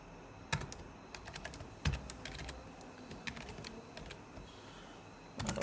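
Quiet, uneven bursts of computer keyboard keystrokes as code is typed, with short clusters of clicks and brief pauses between them.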